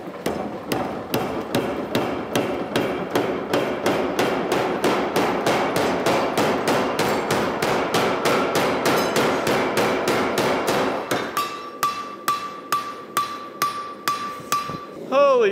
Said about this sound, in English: Now I'm gonna turn on the power hammer and flatten this whole thing down